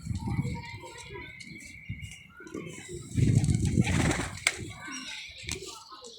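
A freshly caught pigeon is released and beats its wings in a short, close burst of flapping, with someone talking before and after and softer coos nearby.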